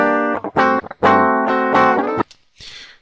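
Electric guitar played back in Mixcraft software: a few bright, sustained chords or strummed notes ring out in short bursts with slight distortion, then stop, followed by a brief soft hiss.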